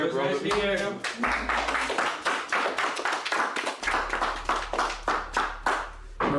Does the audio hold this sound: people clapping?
yes